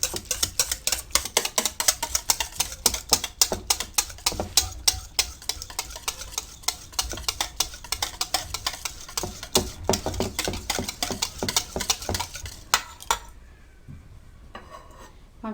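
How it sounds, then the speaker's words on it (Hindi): Rapid, rhythmic clinking of a whisk or spoon whisking yogurt in a bowl, fast and steady, close up, stopping abruptly near the end. "इसको आप अच्छी तरह से फेंट लें।"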